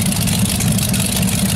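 A modified 1949 International Harvester W9 tractor with a 427 Chevy engine, running in a tractor parade at a steam and gas show. It gives a loud, steady, close rumble that holds evenly for the whole stretch.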